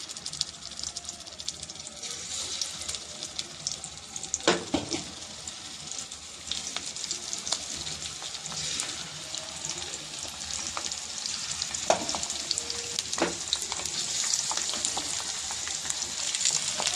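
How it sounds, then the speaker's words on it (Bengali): Fish pieces sizzling in hot oil in a pan, a dense continuous crackle with occasional sharper spits and pops, close up and steady throughout with no voices. "মাছটাকে এপিট ওপিট করে ভেজে নিয়ে আপনার সামনে আবার ফিরে আসছে।"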